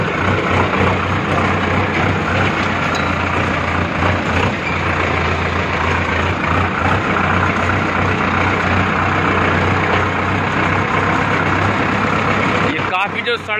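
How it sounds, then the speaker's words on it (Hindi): A tractor rumbles along a rough, potholed dirt road toward the field, its engine droning loud and steady up close with rattling, while someone talks over it. "ये ट्रैक्टर चला रहे हैं और काफ़ी कच्चा रोड है तो इसलिए इसमें ऑफ रोडिंग है तो तेज नहीं चला सकते हैं।"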